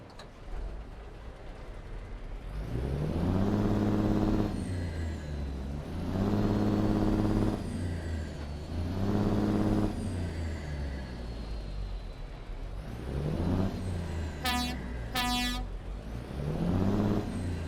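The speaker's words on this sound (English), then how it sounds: "I'm gonna go ahead and start up the truck and let you guys listen to it." A Kenworth W900B truck with an 18-speed transmission and retarder in American Truck Simulator starts up and idles, its engine rumbling in repeated swells, with sharp hissing air bursts near the end.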